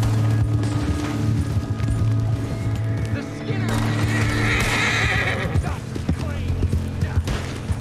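A horse neighs and whinnies amid clip-clopping hooves in Red Dead Redemption 2 Online, with game sounds layered over steady background tones and a voice talking.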